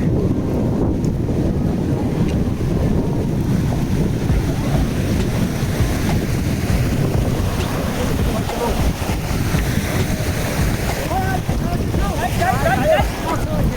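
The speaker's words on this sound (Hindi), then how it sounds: "ये देखो पानी की आवाज़।" A mountain stream on the Amarnath Yatra route rushes steadily and loudly, with constant close broadband roar and some wind buffeting the microphone throughout.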